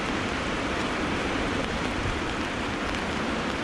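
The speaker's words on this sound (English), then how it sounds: "I'm out the wind, out the rain." Steady rain from Storm Dennis drums on a tent during a wild camp in the Simonside Hills of Northumberland, a dense, even hiss close by with no break and no voices.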